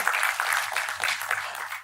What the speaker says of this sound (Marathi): एकदा जोरदार टाळ्या होऊन जाऊ द्यात